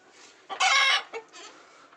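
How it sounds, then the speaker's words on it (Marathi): A local desi rooster lets out a short, loud crow-like call followed by a few quieter clucks, close by in an otherwise quiet yard. "हा आहे आपला गावरान कोंबडा"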